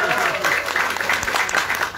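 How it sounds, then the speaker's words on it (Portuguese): A crowd applauds steadily, dense clapping throughout, with a voice speaking over it near the start. "pedir uma salva de palmas também para a primeira-dama"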